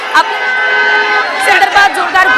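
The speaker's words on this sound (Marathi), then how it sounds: "वानखेडे स्टेडियमच्या बाहेर मरीन मरीन या परिसरामध्ये मोठ्या संख्येने चाहत्यांची गर्दी केलेली आहे" A crowd of cricket fans gathers outside Wankhede Stadium on Marine Drive in Mumbai, a steady murmur of many voices with scattered shouts and bursts of cheering close by.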